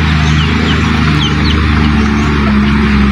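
Native chickens on a small farm make a dense, continuous mass of low clucking and chatter. A few faint higher chirps break through, and a steady low hum runs underneath.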